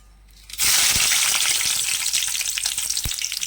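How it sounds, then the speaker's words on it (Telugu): Dry red chillies drop into hot oil in a frying pan for a coconut and ivy gourd fry, bursting into a sudden loud, close sizzle that holds steadily, with a couple of soft knocks and no talking. "ఫస్ట్గా అండి ఎండుమిరపకాయలు వేస్తుంది"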